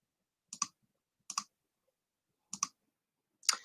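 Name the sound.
computer mouse clicking on a website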